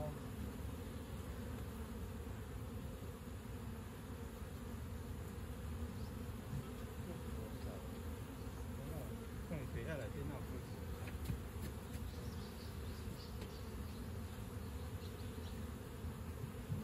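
A swarm of honeybees hums steadily as a hive box is opened, a dense, continuous buzz close by with individual bees droning past.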